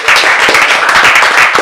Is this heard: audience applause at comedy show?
yes